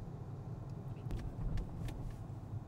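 A Lexus hybrid car idles quietly, a soft low rumble with a faint steady hum and a few light clicks, no voices.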